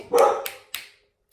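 Several household dogs bark indoors, one loud, broad opening bark followed by two sharper, shorter yips spaced apart, close by and with no talk over them.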